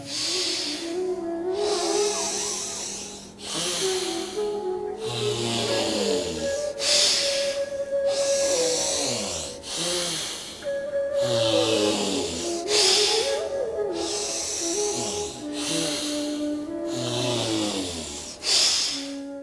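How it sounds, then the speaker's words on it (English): Alternate nostril pranayama breathing, long hissing inhales and exhales through one nostril at a time, repeating in a steady rhythm of about a dozen close, loud breaths over sustained background music. "Close the left nostril and exhale through the right. Again, inhale through right. Exhale through left."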